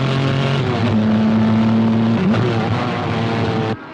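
Race cars roar steadily through a motor race, one engine note holding and then dipping as it shifts, with more engines layered beneath, loud and close throughout before cutting off abruptly near the end.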